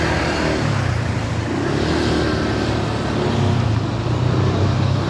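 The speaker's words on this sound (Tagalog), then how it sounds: "Guys, traffic na guys." Steady, loud road traffic rumble of cars idling and creeping through a flooded street, a continuous low engine drone with no distinct pauses.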